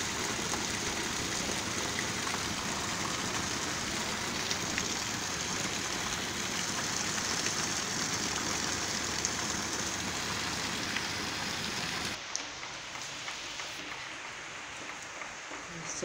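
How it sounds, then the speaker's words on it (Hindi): Rain falling in Karachi, a continuous dense hiss of drops on surfaces lasting throughout, with a slight drop in intensity and texture near the end. "सुबह से बारिश हो रही है कराची में।"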